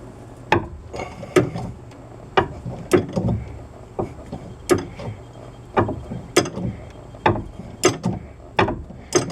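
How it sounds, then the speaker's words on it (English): A wrench on a 1/2-inch drive socket loosening a tight sway bar link on a Chevy Impala, giving a steady series of short ratcheting clicks in even strokes, close and fairly loud, with no talk. "So I just got a 1/2-inch drive socket with a wrench on the end for a little more leverage, because it's pretty tight"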